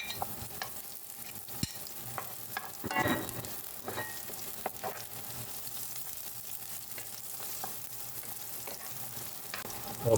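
Chopped onion and garlic frying for ginataang tilapia, a soft continuous sizzle with scattered clicks and scrapes of stirring, close and fairly quiet, no talk.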